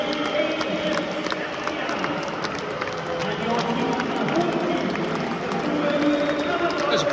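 Dense, steady murmur of a large football crowd at a UEFA Conference League match between Haverfordwest and Shkendija as the teams walk out, a continuous roar with scattered shouts and voices mixed throughout.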